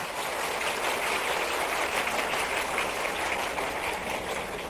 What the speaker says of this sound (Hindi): जरा जोरदार ताली दोनों के लिए बजाते।